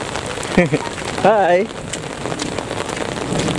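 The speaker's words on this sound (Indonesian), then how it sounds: "Hujan besar hujan." Heavy rain pours steadily outdoors near a river by a mosque, a constant close hiss of drops on the ground and an umbrella, with someone briefly speaking over it.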